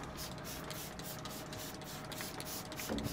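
70% isopropanol is sprayed over lab work surfaces, giving a steady, continuous hiss of mist that stays at an even level throughout with no talking.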